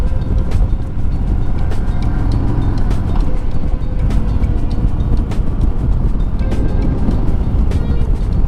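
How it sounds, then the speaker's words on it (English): A motorcycle rides along a curving road, its engine and wind rumble forming a loud, continuous, close roar that stays steady throughout. "Hell yeah, this motorcycle's so sweet."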